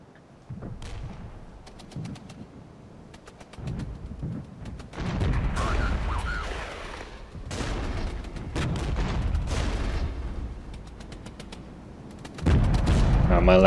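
Tank cannon and gunfire in the armoured warfare game Regiments, with Leopard and M1A1 tanks in battle: repeated booming shots and a busy rumble of combat, ending in a loud heavy blast.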